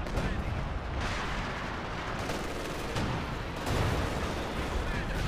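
Anti-tank guns firing in a video game, a dense, continuous rumble of heavy cannon and gunfire with sharper booms near 1, 3 and 3.8 seconds, loud and unbroken throughout.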